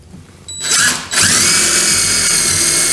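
A power drill drives fasteners to install cleats on a folding wooden shop or camp stool. A short whirring burst, a brief pause, then a loud sustained high-pitched run close by.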